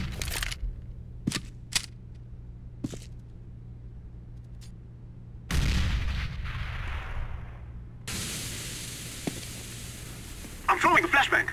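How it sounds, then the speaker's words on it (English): A grenade goes off in the CS:GO video game, a sudden loud blast with a rumbling tail, followed by further crashing bursts and scattered gunfire pops in the game's battle soundscape. "Throwing a grenade."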